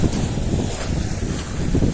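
Strong wind roars and buffets against the microphone in heavy, continuous gusts at a seaside fishing spot with strong waves, with a faint wash of water underneath.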